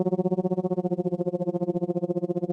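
An OB6 synthesizer sustains a buzzy, distorted tone pulsing in a fast, even tremolo throughout, with a slight pitch drift and no voices.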